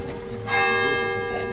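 A church bell rings with a sustained, shimmering metallic tone and long overtones over a low hum of background noise, swelling partway through at an outdoor event in Sète.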